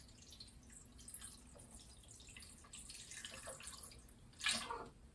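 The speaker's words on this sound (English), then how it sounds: "Add a little bit of water to the bottom of your vase." Water trickles and drips into a cylinder glass vase holding gray river rocks, faint and close, ending with a brief louder splash.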